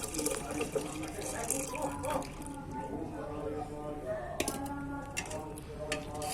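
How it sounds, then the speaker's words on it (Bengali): Caramelised milk is poured into a pot of milk while making Bogura-style doi at home, a light continuous trickle and splash under steady talking. "ক্যারামেলের দুধটা দুধে ঢেলে দিতেছি"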